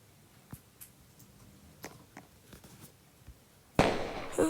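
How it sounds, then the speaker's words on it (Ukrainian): In a video game, a quiet stretch of faint scattered pops, then a sudden loud crackling burst of fireworks near the end, sharp and bright, with a second swell just after. "Це де в мене фейерверки?"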